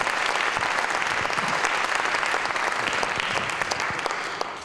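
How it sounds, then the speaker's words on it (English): Audience applause at a high school midwinter band concert after a piece with clarinet and alto saxophone soloists, a loud, full round of clapping from a crowded hall that holds steady then begins to fade. "So round of applause for those guys."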